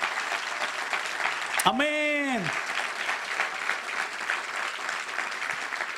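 Congregation clapping in a church service, a broad wash of applause with a loud voice calling out in a sustained, melodic shout partway through.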